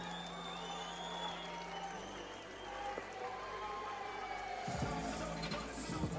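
Applause for the Azerbaijani fighter's corner after a MAX FIGHT bout, a steady crowd clapping at moderate level with a brief swell near the end.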